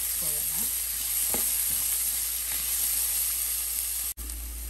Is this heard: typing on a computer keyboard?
no